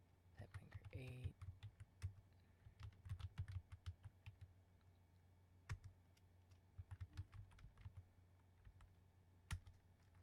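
Close, quiet keystrokes on a computer keyboard tap out in irregular clusters with short pauses, a soft voice briefly audible early on.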